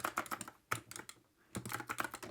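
A Data Frog Y5A arcade stick clatters during a game of Tekken 6, with rapid bursts of sharp plastic button and lever clicks in close, busy clusters and a brief lull between them.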